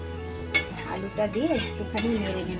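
Potatoes being stirred in a pot while cooking biryani, with a few sharp metallic clinks of a spoon against the pot and soft scraping between them, and a faint voice murmuring in the background.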